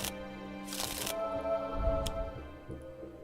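Cards from the Sentinels of the Multiverse card game get shuffled close by in two brief riffling bursts, each a quick papery flutter, over a faint background with no talking.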